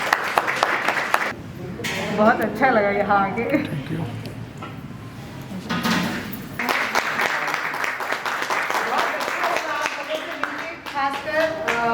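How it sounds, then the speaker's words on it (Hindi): Audience applause welcoming a doctor at a family and geriatric caregiver training session, a steady sustained clapping crowd in a hall, followed by someone speaking over fading claps. "जोरदार तालियों से उनका स्वागत कीजिए"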